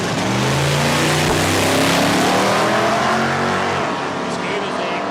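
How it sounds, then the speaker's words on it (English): A Commodore drag car accelerates down the strip at Palmyra Raceway, its engine a loud, close, continuous roar with rising revs that holds for several seconds. "Tylen Barron back around in the Commodore."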